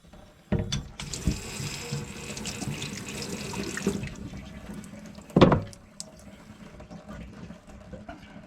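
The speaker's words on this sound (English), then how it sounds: "Rinse it off a little bit." Tap water runs into a sink while crab bait is rinsed, a steady splashing stream lasting about three seconds, followed by a sharp clatter and quieter handling sounds.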